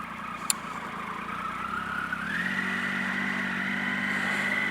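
Riding a motorcycle through road traffic, the bike's engine drones steadily and rises in pitch as it speeds up, with the broad rush of passing vehicles around it and a brief click near the start.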